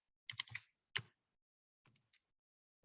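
Quick bursts of keystrokes on a computer keyboard, a flurry of clicks, then a single tap and a few sparse light presses, faint and close with no talking.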